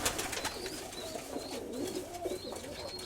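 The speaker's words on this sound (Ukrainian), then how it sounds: "Ось вони красені, два червоних голубеньонка нижче йдемо" Pigeons in a breeding loft coo softly and repeatedly nearby, with short rolling calls and faint chirps against quiet background.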